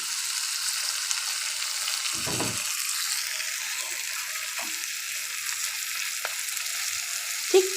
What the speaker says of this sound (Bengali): এরকম টেক্সচারে আমি মোচাগুলো এই রান্নাতে যোগ করে দিলাম আমি ভালোভাবে নেড়ে